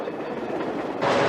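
A subway train riding along, a steady rumbling roar with no voices, rising slightly louder near the end.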